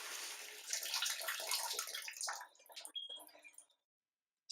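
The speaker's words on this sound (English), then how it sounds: "Fill the container 3/4 of the way with the coldest water you can find." Cold water pours steadily into a container, a bright gushing splash that thins to trickles and drips before stopping, close and moderately loud.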